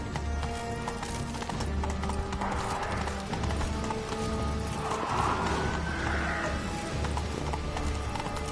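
Hooves of a horse named Roach clip-clop in a steady rhythm in The Witcher 3, with a couple of whinnies rising over the gait and a dense game ambience underneath.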